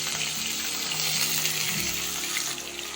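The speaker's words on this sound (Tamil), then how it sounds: "இப்போ நல்லா வெங்காயத்தை வதக்கிடலாம்" Four medium onions and halved green chillies sautéing in a pressure cooker for egg biryani, giving a steady close sizzle and watery frying hiss throughout, with a few faint low clinks of stirring.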